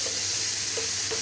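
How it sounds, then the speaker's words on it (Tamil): Greens and prawn fry (keerai eral) with salt and garam masala, stirred in a pan: a brief, steady close sizzle with a couple of quick scraping strokes, no speech. "தேவையான அளவு உப்பு, அப்புறம் கொஞ்சமாக கரம் மசாலா சேர்த்துட்டு நல்லா கிண்டிக்கோங்க"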